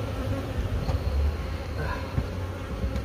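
Honey bees buzzing from inside a wall on a construction site, a dense continuous drone close to the microphone with a low rumble underneath and no talking.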